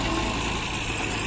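A tractor engine running steadily while digging potatoes in a farm field, a continuous loud low rumble with no breaks.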